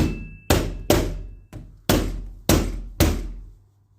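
A hammer strikes the edges of a PVC door frame six times in an uneven rhythm, each sharp knock close and loud with a short ringing decay.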